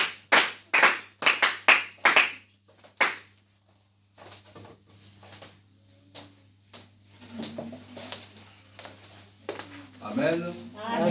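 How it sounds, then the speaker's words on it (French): A church congregation at a French-language worship service bursts into sharp, rhythmic clapping for a few seconds, then settles into a murmur of voices and a low steady hum as people talk and call out. "nous allons encore acclamer, non pour l'apôtre, mais pour la gloire de Dieu"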